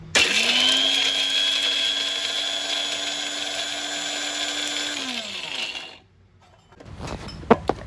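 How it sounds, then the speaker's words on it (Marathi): An electric kitchen mixer grinds coconut, chillies and coriander stalks into a wet paste, giving a steady, high motor whine for about six seconds that winds down and stops, followed by a short silence and a few clinks and rattles of the jar. "हे वाटण मी आता मिक्सरमधून"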